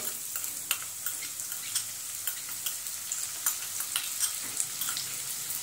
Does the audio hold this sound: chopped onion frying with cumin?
yes